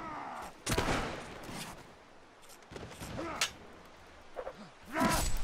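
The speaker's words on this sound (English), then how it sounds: "Oh, I got shot." Gunfire in the Mount & Blade: Warband battle, a few sharp shots scattered over several seconds amid combat noise and whooshes, with no voice over it.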